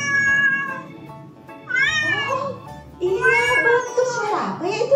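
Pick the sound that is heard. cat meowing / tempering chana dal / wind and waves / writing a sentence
cat meowing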